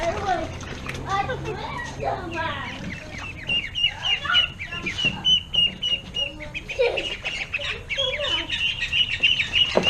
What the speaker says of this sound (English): So the ducks are getting a lot bigger.